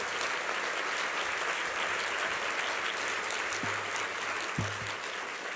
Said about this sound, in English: stand to your feet, and give Deborah a round of applause